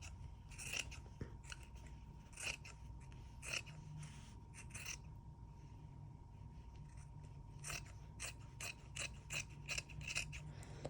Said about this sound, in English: Now we are going to cut and sew both sides.